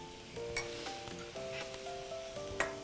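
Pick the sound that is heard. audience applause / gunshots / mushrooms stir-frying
mushrooms stir-frying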